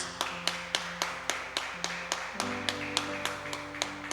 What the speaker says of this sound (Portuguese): vamos aplaudir bem forte o nome do Senhor Jesus